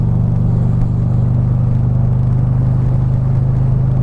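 A Harley-Davidson Street Glide Special with a Vance & Hines exhaust rumbles on the road, its deep, bass-heavy engine drone loud and steady throughout with no one talking.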